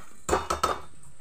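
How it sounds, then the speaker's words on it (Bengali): A spoon scrapes and clanks three times against a metal pot while fish head, spices and rice are stirred together, each stroke close and brief before the kitchen falls quiet. "সব উপকরণগুলো ভালো করে মিশিয়ে নিচ্ছি"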